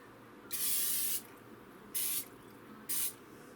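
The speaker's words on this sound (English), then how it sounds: "please spray it with no cooking spray." Three short hissing bursts of an aerosol no-stick cooking spray, the first longest, separated by quiet pauses in a still kitchen.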